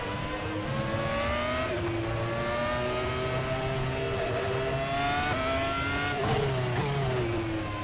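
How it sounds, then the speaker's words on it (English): Formula 1 car engines in a racing video game at the Macau circuit drone continuously at high revs, pitch sliding up and down, with tyre squeal and rubbing scrapes of tyres touching, loud and close throughout. "The sound of rubber on rubber."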